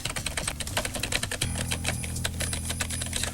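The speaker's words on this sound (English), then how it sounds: "Was somebody else in the room typing?" Rapid keystrokes clatter on a computer keyboard in a room, a dense, steady run of clicks close to the listener, with a low hum underneath.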